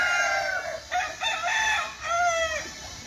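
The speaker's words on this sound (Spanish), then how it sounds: "El papá es machote, que es el gallo de acá." A rooster crows close by, a loud, drawn-out cock-a-doodle-doo call heard alone.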